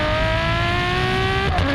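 Enzo-derived 6-litre V12 of a Ferrari 599 GTO holds a steady, loud, harmonic-rich drone close by, with the pitch shifting down sharply near the end.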